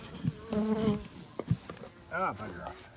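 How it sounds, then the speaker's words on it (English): Bees buzzing close by around a hive, a steady drone weaving under a voice speaking in bursts. "Lots of bees on there."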